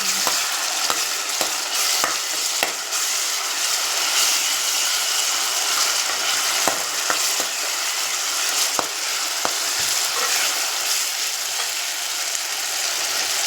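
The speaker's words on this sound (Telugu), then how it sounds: "ఇది కూడా బాగా మిక్స్ చేసి బాగా ఫ్రై చేయాలి అల్లం వెల్లుల్లి పేస్ట్ కూడా" Masala with ginger-garlic paste fries in a pan for a spicy fish curry, giving a steady broad sizzle throughout, with sharp scraping clicks from a spoon stirring against the pan scattered over it. No one speaks.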